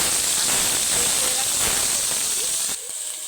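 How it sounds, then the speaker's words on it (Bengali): Grated onion fries in hot oil in a pan while a pomfret dish is cooked. A loud, steady, close sizzling hiss fills the clip and drops away sharply just before the end. "পেঁয়াজটা একটু লালচে লালচে করে ভেজে নিয়ে তারপর এতে আমি দেবো টমেটো"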